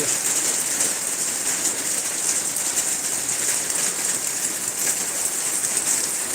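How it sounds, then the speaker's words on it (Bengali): Rain falling in a steady, even hiss that fills the whole stretch, with faint bird cooing in the background and no voices. "তো বন্ধুরা আমাদের এখানে বৃষ্টি শুরু হয়ে গেছে"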